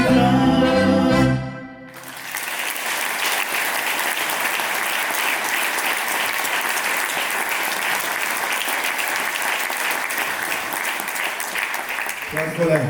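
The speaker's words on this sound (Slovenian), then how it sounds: "Hvala lepa za aplavz." After a short burst of music from a live vocal quintet cuts off, a crowd breaks into loud, sustained applause that continues steadily to the end.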